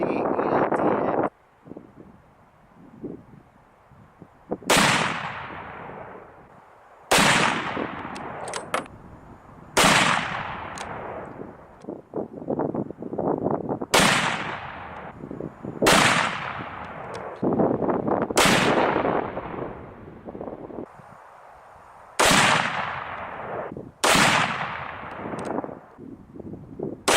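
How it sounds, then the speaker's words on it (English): 30-06 rifle firing 178 grain Hornady ELD-X loads outdoors, about nine loud, sharp shots spaced several seconds apart, each with a booming decay, wind noise and brief talk between them. "now we're going to shoot the 178 grain Hornady ELD-X."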